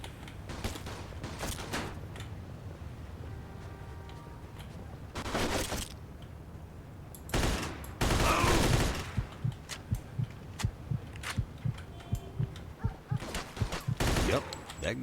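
Gunfire in the video game Mafia 2: Jimmy's Vendetta: repeated sharp shots in bursts, including a dense volley near the middle and a quick run of rapid cracks toward the end, loud over a low game background.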